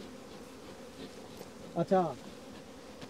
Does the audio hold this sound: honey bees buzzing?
yes